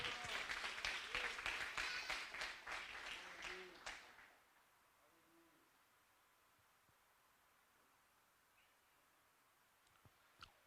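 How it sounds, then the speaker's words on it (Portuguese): Church congregation at Nazareno Central clapping in praise, a scattered burst of hand claps that thins out and stops after a few seconds, followed by near silence. "Você pode aplaudir o Senhor em nome de Jesus?"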